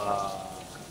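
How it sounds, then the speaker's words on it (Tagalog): Steady rain pouring in Antipolo near the church, a dense continuous hiss of drops on surfaces, loud and close, with no voices over it. "talagang tuloy-tuloy yung ulan dito sa Antipolo"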